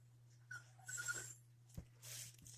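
A small chihuahua whimpers on the other side of a gate, making faint, brief whines and snuffly breaths in short bursts over a steady low hum, in a quiet indoor room.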